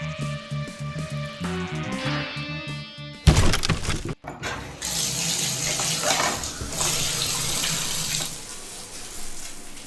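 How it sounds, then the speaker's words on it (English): Brief musical tones give way to a sudden crash and a short break, then water pours steadily from a shower or tap, a loud continuous hiss that runs to the end with no talking. "I gotta take a shower now."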